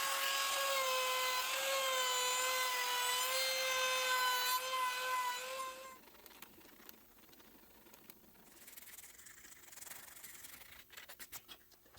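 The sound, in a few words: sanding wooden slingshot handle grips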